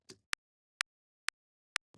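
Four short, sharp techno kick drum transient clicks at an even pace, separated by silence, with brief bits of other sound at the very start and end.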